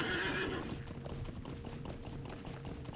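A horse in the LOTRO game whinnies loudly at the start, then its hooves clatter in a quick steady gallop that carries on to the end.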